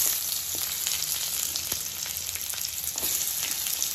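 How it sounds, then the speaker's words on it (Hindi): Onion frying in hot oil in a pan, a steady loud sizzle with crackling pops throughout, close up and with no one talking. "तो अब इस ऑयल में डाल देंगे हम अपने प्याज,"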